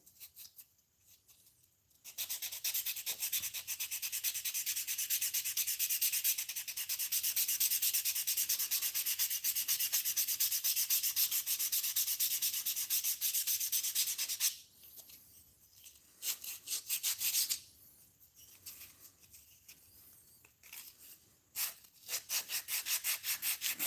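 Steady hand sanding with 400 grit sandpaper, a continuous close scratchy rubbing for about twelve seconds, then shorter intermittent strokes with pauses.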